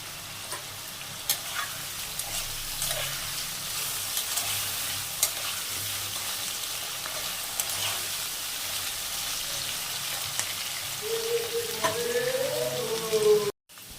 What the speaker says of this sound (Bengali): ডাঁটা আলুটা ভাজা ভাজা হয়ে গেছে